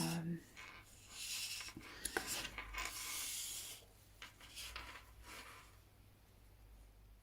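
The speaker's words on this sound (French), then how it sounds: "Donc je vais écrire" Pen writing words by hand on paper during a winter Zentangle drawing session: soft scratchy strokes in bursts, close and fairly quiet, with pauses and faint handling noise between.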